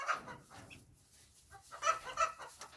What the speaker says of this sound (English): One of our Easter egger hens